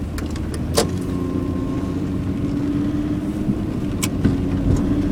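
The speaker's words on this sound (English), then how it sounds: "I'm probably going to have to run my fan that only runs at full speed." Car interior with the ventilation fan running at full speed, a steady loud whooshing roar throughout, with a few faint clicks and taps over it.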